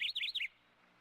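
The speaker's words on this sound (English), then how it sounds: "The chirping of birds in the woods grow louder as the sun rises." Several bright, quick bird chirps in a video-game woodland at sunrise, clustered in the first half-second and then cut off, leaving a faint hush.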